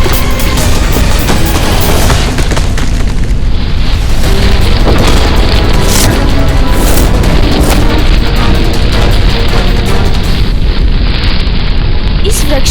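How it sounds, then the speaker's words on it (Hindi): Loud, terrible rumbling roar that fills the scene continuously, layered with booming, crackling bursts like explosions. "ये कैसी गड़गड़ाहट?"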